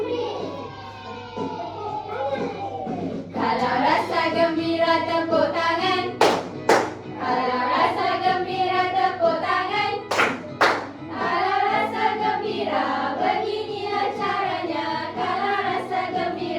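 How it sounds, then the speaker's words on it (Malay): Children in a classroom clap their hands along to an action song, several sharp claps landing in time under loud singing from a teacher and the children. "tepuk tangan"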